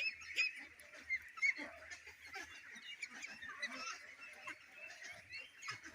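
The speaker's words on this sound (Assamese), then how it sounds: "এইটো আপোনাৰ লোকেল হাঁহ" Local ducks on a duck farm, faint scattered quacks and honks from several birds at a distance over a low background hum.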